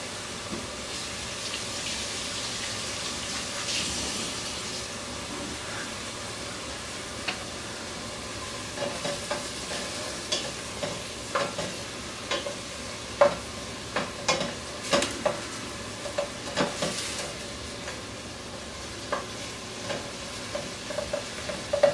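Onions frying in a pan for a homemade knockoff marinara sauce give a steady crackling sizzle, and from midway irregular stirring scrapes and clicks punctuate it, close and alone without talk.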